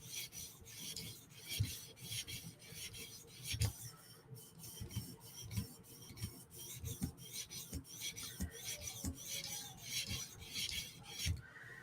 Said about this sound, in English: do a couple strokes backwards to kind of mess the pattern up that's in the edge from the last stone